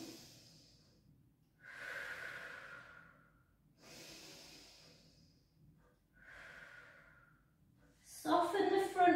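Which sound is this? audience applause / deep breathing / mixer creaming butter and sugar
deep breathing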